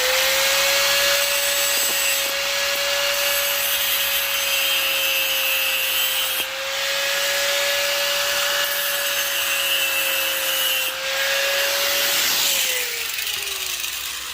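A file cleans up the cut end of a garage door torsion spring, producing a continuous loud metallic scraping with a steady ringing tone throughout and slight breaks in the stroke.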